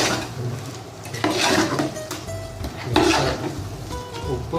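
Chicken being mixed with majboos spice powder in a pot, giving close scraping and clinking of a spoon against cookware in uneven strokes, fairly loud with no talking.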